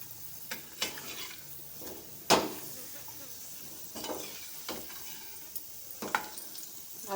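Papads frying in hot oil, with a steady sizzle broken by scattered clinks and scrapes of a utensil turning them in the pan, close up.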